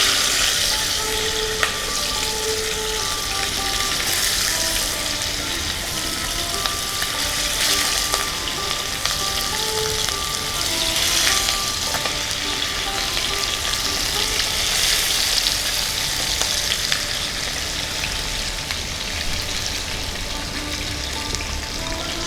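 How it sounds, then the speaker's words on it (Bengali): Several whole koi fish crackle in hot oil, a dense, steady sizzle with small pops that holds level throughout, with no voices over it. "তেল গরম হয়ে গেছে, মাছগুলো ভাজার জন্য ছেড়ে দিচ্ছি।"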